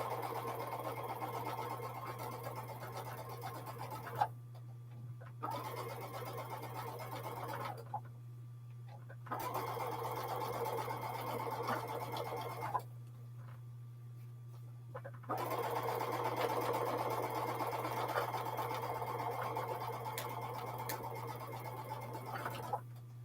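Sewing machine stitching quilt block fabric, running in steady stretches broken by several short pauses, under a constant low hum.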